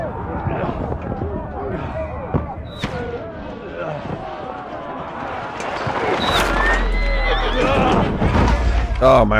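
A horse whinnies repeatedly in a medieval open-world game amid battle noise, with sharp impacts, a low rumble and footsteps, while someone talks over the action.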